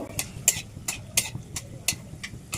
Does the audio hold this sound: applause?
no